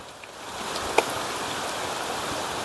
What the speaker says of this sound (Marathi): पावसात झाली सुरुवात